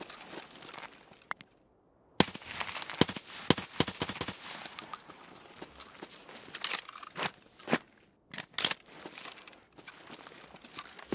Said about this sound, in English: Sniper scav shooting me up.